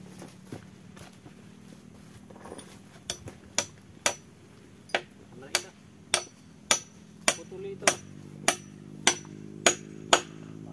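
Nails are hammered into wood while a guard house is built on a hillside lot, giving a rising series of loud, sharp blows that speed into a steady rhythm, with a low engine-like hum and scattered voices behind.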